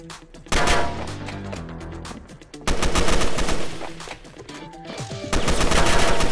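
Rapid gunfire bursts in the survival shooter Fallen, loud and close, with machine-gun-like volleys starting and stopping across the stretch over a layer of game sound.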